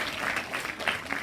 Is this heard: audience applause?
yes